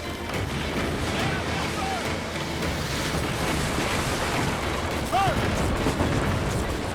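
Wind-driven ocean surf and rushing water around a sailing ship on a windy sea in the Assassin's Creed Black Flag video game, a steady dense roar with occasional faint whistling tones and thuds throughout.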